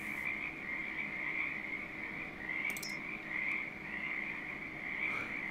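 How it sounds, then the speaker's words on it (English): Frogs croak steadily in a calm Farming Simulator 22 countryside scene, a continuous chorus of mid-pitched calls with faint insect-like chirps above, even and unbroken throughout with no talking. "Y'all enjoy that peaceful frogs."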